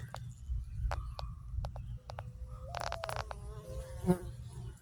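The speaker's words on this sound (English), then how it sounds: "Here's them bees coming in." Honey bees buzz around close by at a hive, individual insects droning past in brief passes over a low outdoor rumble.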